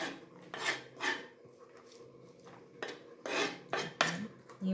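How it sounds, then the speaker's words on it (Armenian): A knife slices through cucumber with crisp, close cuts in two bursts of several strokes each, separated by a quiet pause, with no talking. "հիմա կտրեմ վարունգ"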